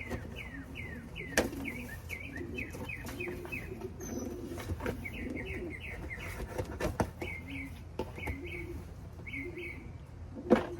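Racing pigeons shuffle and coo inside a box as it is opened, soft repeated bird calls and chirps over scratchy rustling, with a few sharp knocks and bumps nearby.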